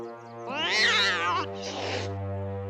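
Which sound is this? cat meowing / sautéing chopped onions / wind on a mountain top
cat meowing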